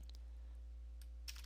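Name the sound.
typing a command on a computer keyboard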